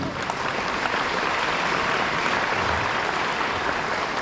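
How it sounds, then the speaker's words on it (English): Convention audience at a Stargate SG-1 fan event applauding guests Teryl Rothery and Michael Shanks, a dense, steady wash of clapping filling the hall throughout with no talk over it. "Très bien, on les applaudit."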